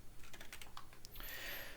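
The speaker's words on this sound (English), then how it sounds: "I keep typing in the wrong thing." Rapid typing on a computer keyboard during Python programming, a quick run of light key clicks close by and faint, with no talk.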